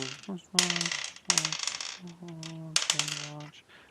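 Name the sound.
many dice rolling during a tabletop role-playing game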